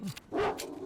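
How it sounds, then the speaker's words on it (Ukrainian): Dogs barking in the video game S.T.A.L.K.E.R.: Shadow of Chernobyl, a few short, sharp barks and yips in quick succession, close and moderately loud, with no talk. "кепські собаки."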